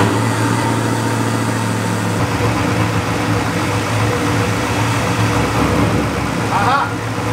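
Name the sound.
LS-swapped BMW E36 engine starting and idling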